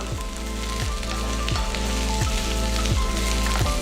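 Green chillies and onions sauté in a pan, giving a soft, continuous sizzle layered over a steady hum and a repeating pattern of falling tones; no talking.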